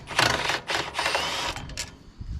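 An impact wrench works on a bolt on a Yerfdog go-kart, giving close, loud rattling bursts that stop and start several times in quick succession.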